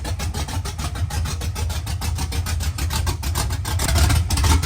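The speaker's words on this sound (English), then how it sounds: "About a 575 RPM idle, just because it's cold." A cold car engine idles low and steady at about 575 RPM, a continuous rumbling drone close by that swells slightly toward the end, with no talking over it.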